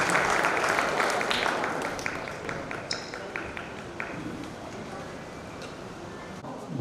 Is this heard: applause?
yes